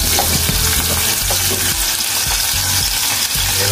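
Lemongrass, garlic and onion frying in hot oil in a pan, a loud continuous sizzle with a steady spatula scraping and stirring rhythm throughout.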